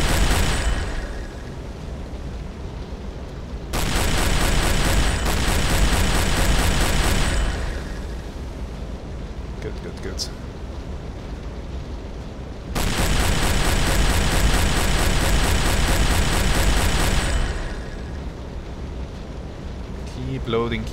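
Deck gun fire from a submarine at a ship in Silent Hunter 3 comes as two long, loud rumbling barrages of blasts and bursts over a steady engine and sea drone, with a quieter stretch between them.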